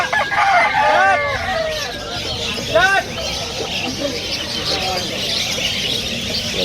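Chickens and roosters at a poultry market in Malabon crow and cluck, with two clear crows early on over a dense background of market clamor and voices.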